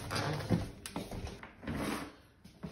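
A washing machine door is opened in a student laundry in the UK, giving a run of close clunks, clicks and rattling handling noises with no speech.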